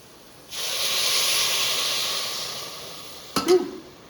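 Water poured onto mixed vegetables in a hot pan gives a sudden loud steam hiss that holds for a few seconds and slowly fades, ending with a couple of sharp clinks.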